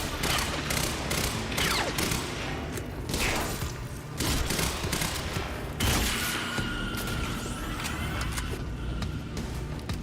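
Rapid bursts of automatic gunfire from the video game Quantum Break, dense and close with mechanical clatter and booms running through the whole stretch, no voices over it.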